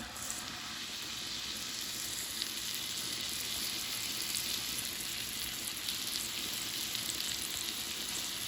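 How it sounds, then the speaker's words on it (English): Salisbury steaks frying in a hot oiled skillet, a steady, close sizzle that crackles continuously and evenly for over eight seconds with no voices. "when your skillet is hot, you want to take your Salisbury steaks and lay them into the skillet"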